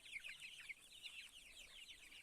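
A flock of purebred hens and laying hens clucks and chatters continuously, quiet and fairly close, a busy overlapping stream of soft calls with no voices.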